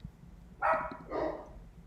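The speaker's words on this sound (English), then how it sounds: "My dogs won't stop." Two bursts of dog barking, one near 0.6 s and another near 1.1 s, fairly loud and close against a quiet room background.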